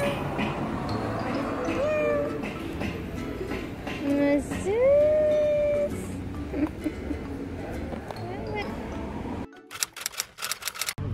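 A pet cat meows several times at close range, drawn-out rising and falling calls over a murmur of background talk, followed by sharp clattering typewriter-like clicks near the end.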